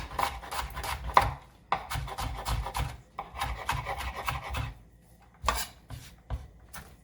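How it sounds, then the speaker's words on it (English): Knife chopping vegetables for roasted pumpkin soup on a cutting board: a steady run of close, rapid rasping chops in bursts, pausing briefly near the middle and again near the end, with no talking. "Get this all diced up."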